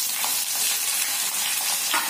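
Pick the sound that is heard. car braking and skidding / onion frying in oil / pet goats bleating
onion frying in oil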